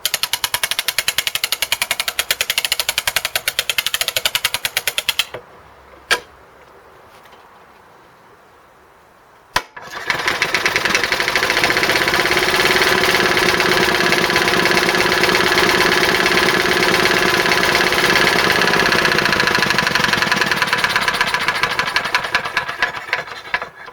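A wind-up lawn mower engine catches after a brief quiet pause, then runs loud and steady with a buzzing, knocking idle that continues to the end.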